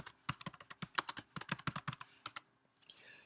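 Keys on a computer keyboard being typed into an Excel spreadsheet cell on a Mac: a quick burst of about twenty crisp, close clicks in an uneven rhythm over roughly two and a half seconds, then quiet.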